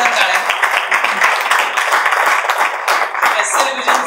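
An audience at a music launch event gives a loud, sustained burst of applause in a hall, dense clapping continuing for several seconds with voices underneath.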